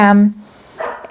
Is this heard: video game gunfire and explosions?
no